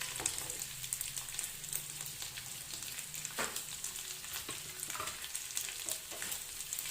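Crispy fried Hyderabadi mutton sizzles steadily in a pan over a medium flame as red chili powder and garam masala go in, with stirring scrapes and clinks breaking through the continuous frying hiss.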